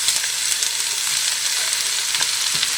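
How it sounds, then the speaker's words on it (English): Sausages browning in a drizzle of olive oil in a pot, a steady dense sizzle and crackle of frying meat close up, with no talking. "I just put a drizzle of olive oil in the bottom, and we're going to put these in and let them brown."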